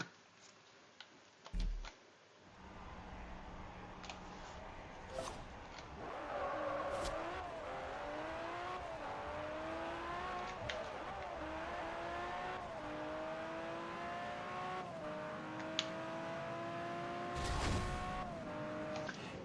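A race car launches hard and accelerates through the gears in Forza Horizon 2, engine revving up in repeated rising sweeps with brief shift dips, loud and close, with scattered ticks and a couple of sharp bumps along the way.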